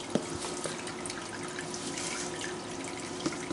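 A wringer washer tub fills with water on a homestead laundry day, giving a quiet, steady stream of running water with a few faint drips and clinks.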